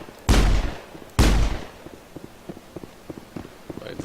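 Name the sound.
gunfire in the video game Mass Effect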